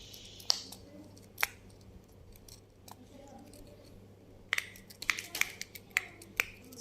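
A silicone pop-it fidget toy being pressed, giving a scatter of sharp, quiet pops and clicks, sparse at first and then bunched into a quick run near the end, close to the listener with no talk.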